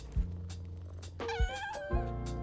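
A cat in the video game PowerWash Simulator 2 meows several times over a low steady hum, short clear tonal calls spaced about half a second apart.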